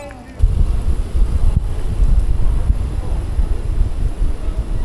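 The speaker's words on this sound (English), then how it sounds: "very windy" Strong wind buffets the microphone while a Kona hardtail bike is ridden on the road, a steady low roar that rises and dips throughout with no clear breaks.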